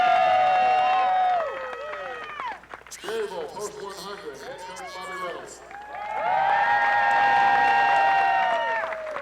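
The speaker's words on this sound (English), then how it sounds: "get ready for some cheering" Crowd cheering and applause ring out for the Cherryville Post 100 American Legion baseball team after their state tournament win, loud and sustained at the start and end, with an announcer talking through the quieter middle stretch.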